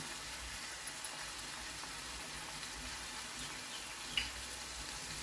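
Prawns frying in a pan with ground coriander added, giving a steady, even sizzle throughout with one brief clink near the end.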